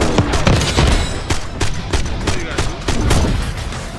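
Rapid LMG machine gun fire with a fast mag in the video game Black Ops 6, dense bursts of loud close shots with gunfire from several sources overlapping, no talking.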